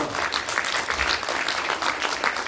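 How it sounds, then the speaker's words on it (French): Audience at a magic show clapping loudly and vigorously, dense, fluttering applause filling the room continuously from start to finish. "Et on va vous applaudir très fort."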